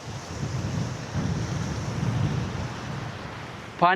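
Steady rushing water in the remote valleys of Taif, Saudi Arabia, with a broad, continuous roar, close and fairly loud, mixed with wind buffeting the microphone; a brief voice cuts in at the very end.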